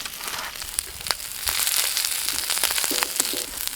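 Meat grilling in hot oil at a Thai tabletop barbecue, giving a steady close sizzle and crackle with scattered sharp pops and a brief tonal clink near the end, with no voices.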